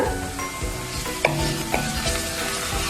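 Curry leaves are stirred into chicken curry in a hot pan, giving a close, strong sizzle with spoon scrapes and a couple of sharp metallic taps against the vessel.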